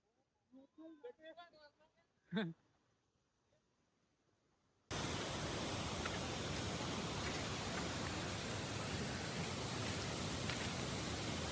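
Heavy monsoon rain in the Konkan countryside makes a dense, loud, unbroken hiss that starts suddenly and holds steady. A few seconds of quiet speech and faint sounds come before the downpour begins.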